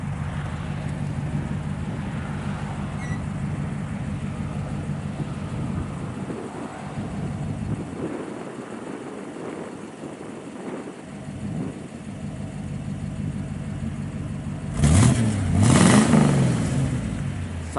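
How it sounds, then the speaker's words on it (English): A 1956 Ford Thunderbird engine idles with a low steady rumble, then revs up louder near the end before settling back, heard close by outdoors on a cold day. "Sounds good out the exhaust and everything."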